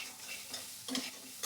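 Crab pieces frying in hot oil with cumin and spices, stirred in a pan: a steady close sizzle broken by a few short scraping stirs, alone with no talk.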